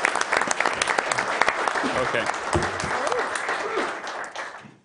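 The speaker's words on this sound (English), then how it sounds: "let's do another clap" An audience claps for Jared at a city council meeting in Ogden, a dense, steady round of applause that tapers off near the end, with a brief spoken word near the close.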